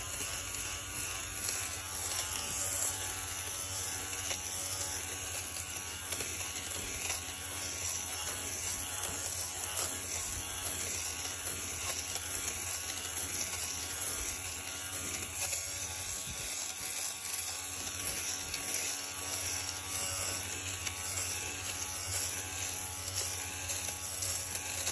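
A rechargeable lint remover with stainless steel six-leaf blades runs over a couch, buzzing in a steady, close whir for the whole stretch, its pitch wavering slightly as it moves across the fabric.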